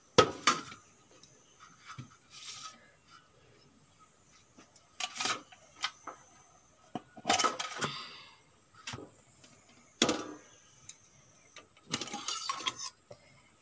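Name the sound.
metal tiffin box being lifted and opened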